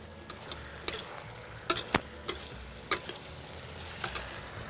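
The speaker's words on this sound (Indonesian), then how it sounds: "Ini kita aduk." Stir-frying fried meat with spring onion and sugar snap peas in a wok: a spatula scrapes and clacks in irregular sharp hits over a soft, faint sizzle.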